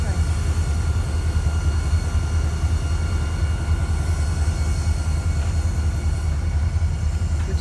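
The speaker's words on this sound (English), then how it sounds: "We have another auto rack train." An autorack freight train rumbles past with a continuous low roar and rattling cars, steady and close throughout.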